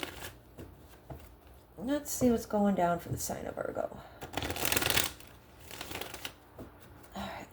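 Tarot cards shuffled by hand in repeated bursts of riffling and crisp slapping, close and fairly loud, with someone talking in between.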